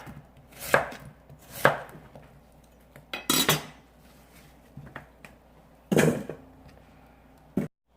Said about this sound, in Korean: 깍두기 모양인데 약간 납작한 깍두기 나박 모양으로 썰겠습니다.